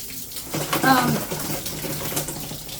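Water sprays steadily from a handheld shower sprayer with no shut-off valve while an Aussie and a Poodle are groomed. The hiss runs continuously at moderate level, with faint speech and a brief whine over it.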